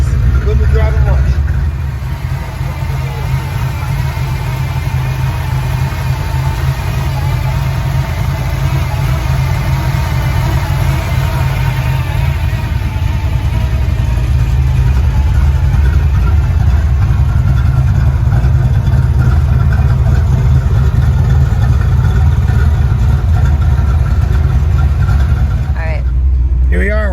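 A heavily built 1991 Ford Mustang notchback sits idling close by, its engine holding a steady, deep low rumble that barely changes for the whole stretch.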